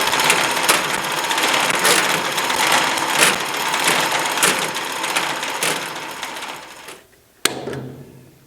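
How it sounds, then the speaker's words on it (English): Mechanical ratcheting and clanking from a chain hoist being taken off in a workshop, steady and fairly loud for about seven seconds, then a sudden sharp metallic clunk followed by quieter rattling. "Let's take the chain hoist off and see what it looks like."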